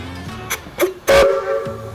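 A steam locomotive whistle gives a short sharp blast, then steam hisses and the whistle sounds again, loud and close, with no voices.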